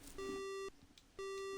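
Two electronic phone beeps from the Phoenix Wright: Justice for All video game, each a steady tone lasting about half a second with a short gap between them, clear and alone.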